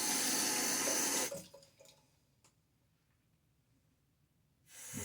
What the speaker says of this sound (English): A splash of water.